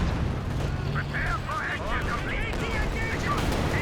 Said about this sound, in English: It's the artillery on the AT guns.